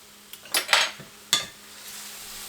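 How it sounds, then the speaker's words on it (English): Squid and fish sauce go into a hot pan for sautéing with pineapple, giving a few sharp metallic clinks and scrapes of utensil against pan over a faint, steady background. "Add in the squid, along with fish sauce."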